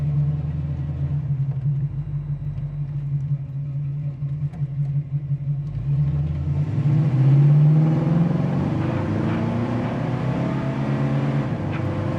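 A 1971 Chevy Camaro RS idles, then revs up and accelerates from a standstill, its rumbling pitch rising and growing louder before settling into a steady drone.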